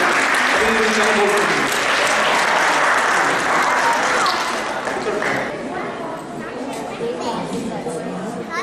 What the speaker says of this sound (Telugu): అందరూ ఈ పిల్లల కృషికి చప్పట్లతో ఆహ్వానించాలని